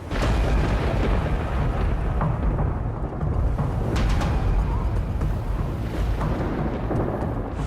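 Thunder from a lightning storm rolls as a long, deep rumble with some sharper cracks, amid rain or wind noise, with faint voices in the background.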